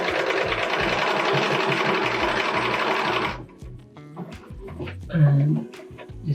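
A sewing machine stitches steadily into the corner of a quilt, a loud continuous run that stops abruptly partway through, followed by a few short mechanical clicks and brief stitches with quiet talk.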